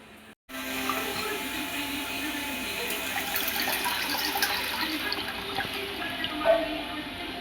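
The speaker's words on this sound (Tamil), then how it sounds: "இந்த உளுந்தை நல்லா கழுவி சுத்தம் பண்ணிட்டு வந்துடுறேன்." Soaked black urad dal being washed in water, with continuous running and splashing water from a tap into a vessel, steady and close after a brief quiet start.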